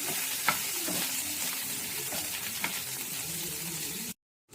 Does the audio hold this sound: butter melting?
yes